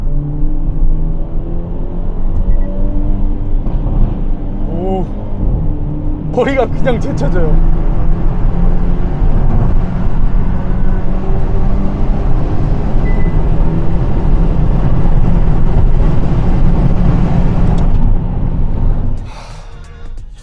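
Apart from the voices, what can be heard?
Hyundai Avante N car driving through a tunnel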